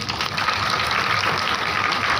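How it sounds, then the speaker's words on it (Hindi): Members of a Friday class give a continuous round of applause for a classmate, a steady, even wash of clapping with no pauses. "तो भाई फसी के लिए तालियां हो जाए।"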